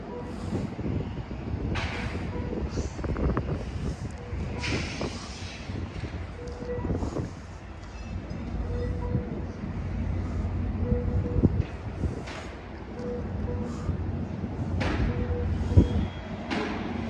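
An Amtrak Capital Corridor train with a 2003 F59PHI locomotive stands at Emeryville station: low steady engine rumble under scattered clanks, door and boarding knocks, and faint bits of distant voices.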